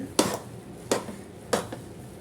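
Chicken biryani being mixed in a pot, with three distinct metal-on-pot scrapes and knocks spaced about a second apart, close and fairly quiet, no voices.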